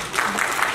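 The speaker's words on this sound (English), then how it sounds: "I want you to clap." A seminar audience claps briefly in response to the lecturer, giving a short, soft burst of applause from a room full of listeners.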